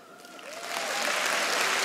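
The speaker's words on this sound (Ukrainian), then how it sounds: "А всі другі, будь ласка, аплодуйте, пілоту буде дуже приємно." Audience at a stand-up comedy show breaks into applause, the clapping starting modestly and swelling to steady, full-room applause that holds to the end, with no talk over it.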